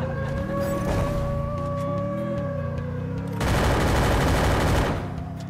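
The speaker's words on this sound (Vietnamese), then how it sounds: "người chơi dám bắn cái UAV của tôi các bạn ạ" Bursts of automatic gunfire during a Free Fire match as players shoot at a UAV drone. A rapid crackling volley swells over a steady droning game backdrop.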